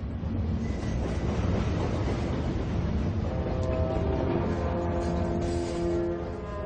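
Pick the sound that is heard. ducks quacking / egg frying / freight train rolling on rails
freight train rolling on rails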